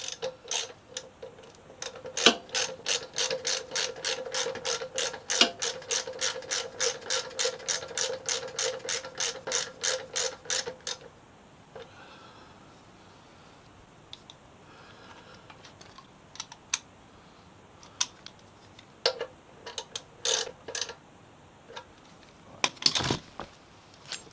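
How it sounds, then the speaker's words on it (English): Ratchet of a torque wrench clicks in a fast, steady run while tightening two brake bolts on a Triumph Street Triple R motorcycle, then stops, leaving a few scattered close metallic clicks and handling taps. "all I've got to do now is just check the torque setting. For those two bolts."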